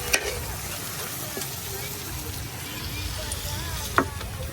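Onion and raw papaya fritters fry in hot oil, giving a steady close sizzle throughout with a few sharp pops and crackles along the way.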